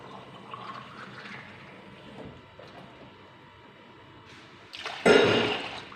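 A full glass of water poured into a pot in a home kitchen, a short gushing splash near the end after quieter background sounds, close and fairly loud.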